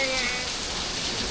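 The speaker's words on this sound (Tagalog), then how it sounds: "It's raining again. It's raining in zambales." Steady rain falls at a beach resort in Zambales, a dense, even hiss of drops that holds constant throughout with no clear talk over it.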